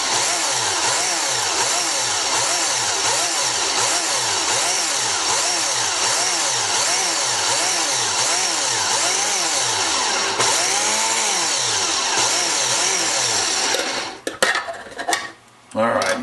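A food processor pulses daikon radish in repeated short bursts, a loud, close whirring chop that rises and falls rhythmically for about fourteen seconds before cutting off, with a few clattering knocks at the end.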